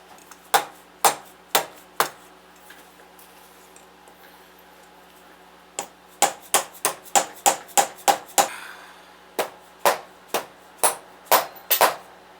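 A hammer taps on metal in short, sharp, close knocks, first a few spaced blows, then a quicker cluster of light strikes and more evenly spaced taps against a quiet background.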